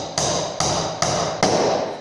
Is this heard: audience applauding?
no